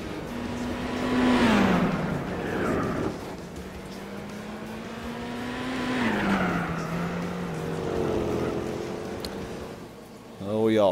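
A Chevrolet Camaro race car in Gran Turismo 4 on Laguna Seca, its engine note climbing and falling through gear changes with tire squeal, partly under talk.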